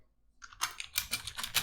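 Quick bursts of keystrokes rattle across a computer keyboard, close and fairly quiet, starting after a brief pause and continuing in an uneven rhythm.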